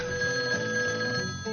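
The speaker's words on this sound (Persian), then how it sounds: "تلفن." A telephone rings with a steady electronic tone that holds through the whole moment and stays clear and fairly loud. No one speaks over it.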